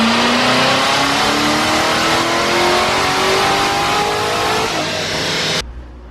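A car engine revs hard and continuously during a dyno baseline run on a hot 82-degree day, its pitch climbing steadily as it pulls through the gears, loud and close, then cutting off sharply near the end.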